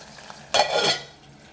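A short, bright sizzle of green chilies frying in a pan for a village-style chutney swells for about half a second as they are stirred, then fades back to quiet.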